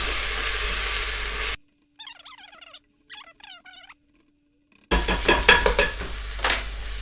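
Ingredients for a vegan French lentil soup stirred and sautéed in a pot, a loud scraping sizzle that drops out into near silence with faint chirps before the stirring resumes.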